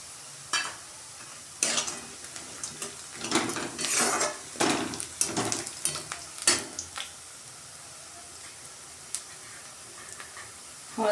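Fried onion and peanuts for batata poha being stirred in a pan, a low sizzle under irregular bursts of scraping and clinking from a spoon against the metal, close by, with quiet gaps between strokes and no voices.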